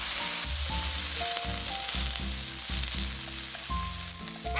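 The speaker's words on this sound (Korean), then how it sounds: "마늘, 그리고 슈거스냅을 넣고 소금 간 살짝 하고 익혀줍니다." Garlic, onion and sugar snap peas sizzle steadily in a pan with a little salt and water, a dense, continuous frying crackle with faint clinks of stirring.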